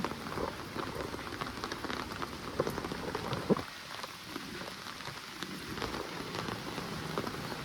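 Steady rain falls outdoors, a dense, even patter of drops striking surfaces, moderately loud and continuous with a few sharper splashes, no talking.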